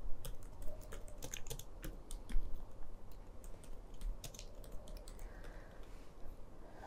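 Python code being typed on a computer keyboard, a steady run of quick, uneven clicks and key taps close by, with brief pauses and a few louder keystrokes.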